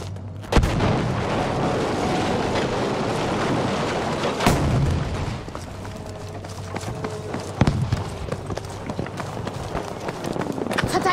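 Battlefield V multiplayer battle with a grenade blast amid continuous gunfire, running footsteps and shouted voices; a sharp loud boom stands out near the middle against the dense combat din.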